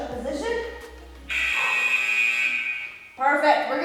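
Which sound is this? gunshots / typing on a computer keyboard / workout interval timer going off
workout interval timer going off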